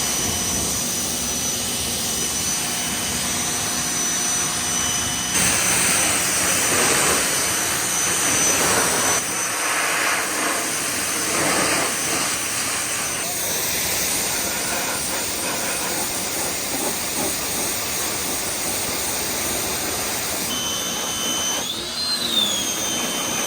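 A high-pressure washer sprays a dirt bike, giving a continuous loud hissing rush of water that shifts in tone as the jet moves across different parts of the bike, with no talking.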